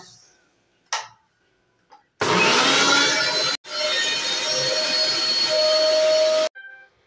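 A small kitchen mixer blends mango with sugar and lime juice, starting with an abrupt loud whir that cuts out for a moment, then runs steadily for about three seconds before stopping, with a few faint clicks beforehand.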